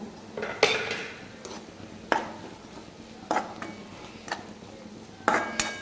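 A spoon stirs salt into onion chutney in a pan, with several distinct metallic scrapes and clinks at irregular intervals, close and clear against a quiet background.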